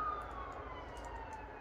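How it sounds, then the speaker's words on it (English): Emergency vehicle sirens wail faintly in the distance outdoors, a thin rising and falling tone that stays low and steady through the brief moment. "it wouldn't be my video without the sirens"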